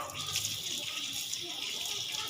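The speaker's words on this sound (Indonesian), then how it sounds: "Nyalakan keran air" Water runs steadily from a tap as hands are washed, a close, even hiss and splash that stays constant throughout.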